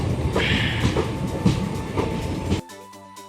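Indian Railways passenger train heard from inside a coach on a trip to Kannur, Kerala: steady rumble and rhythmic clatter of wheels over rail joints, close and continuous, before cutting off abruptly.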